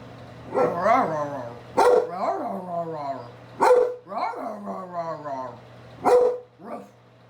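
A dog barks and yips several times at close range, with whiny, wavering vocalizations between the sharp barks over a steady low hum.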